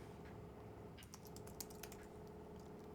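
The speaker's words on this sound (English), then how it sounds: "Let me try to type something here." Soft keystrokes tap on a computer keyboard in a short burst of quick clicks, faint and close, over a steady background hum with no speech.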